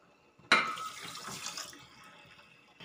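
Water poured from a cup into a pot holding a cup of sugar, a sudden splash then a short rushing pour that tapers off, close and fairly loud in a quiet kitchen.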